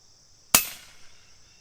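A single sharp report from a custom FX Impact airgun fired at a target card 157 yards away, one crisp crack with a short decaying tail, close and loud against a quiet outdoor background.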